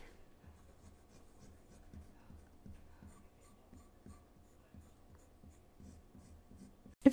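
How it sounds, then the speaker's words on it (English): Faint, close scratching of a Visconti Homo Sapiens fountain pen with a medium nib writing dry on paper, in short rhythmic strokes, ending with a sharp tap. "I want to do some dry writing to see what the nib feels like."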